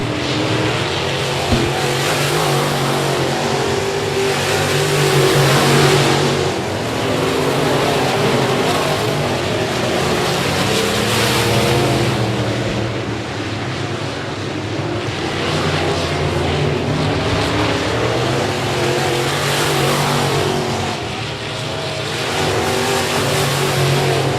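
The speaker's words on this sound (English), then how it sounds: "Final points race of the year for the IMCA Modifieds as Chris Carroll jumps out quickly." IMCA Modified race cars roar around I-37 Speedway in a points race, a loud, continuous wall of engine noise from several cars that swells and eases as the pack passes, with no talking.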